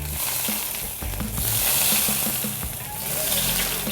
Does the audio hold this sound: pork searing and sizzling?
yes